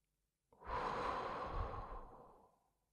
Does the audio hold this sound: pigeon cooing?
no